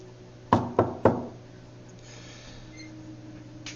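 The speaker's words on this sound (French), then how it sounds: "je m'approche tout simplement et je frappe à la porte" Three sharp knocks on a door, evenly spaced and close, each with a brief woody ring, followed by quiet background hum and faint room noise.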